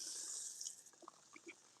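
Water pours into a large tub holding a newly potted avocado tree, a steady splashing stream that gives way to scattered drips and trickles, quiet and close.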